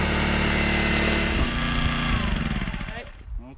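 A Honda EM600 portable generator runs after sitting unused for 15 years, treated with Seafoam, fresh gas and carb cleaner. Its small engine gives a loud, close, steady drone that roughens and winds down near the end.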